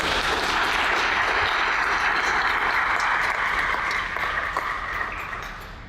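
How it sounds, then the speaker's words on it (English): An audience applauds a group of percussion performers after a museum concert, steady dense clapping filling the room and tapering off slightly near the end. "So give them all a round of applause."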